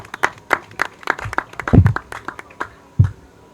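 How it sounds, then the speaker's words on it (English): A small audience at a Gambian media anniversary event claps in scattered, uneven bursts, individual hand claps distinct and fairly close, with a few louder claps standing out. "Please clap for them."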